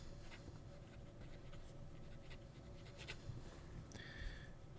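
A fountain pen nib scratches steadily across paper, faint and close against a constant background hiss, with a few soft taps and a brief squeak near the end.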